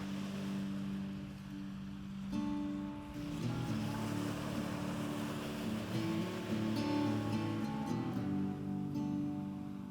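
Steady wash of ocean surf on a Konkan beach at Shrivardhan–Harihareshwar, with wind and a low droning engine hum underneath, continuous and fairly loud throughout, no voices.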